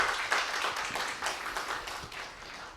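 Audience applause for a university ethics education professor at the close of a philosophy humanities lecture forum, a steady broadband patter of clapping throughout, moderately loud with no voices.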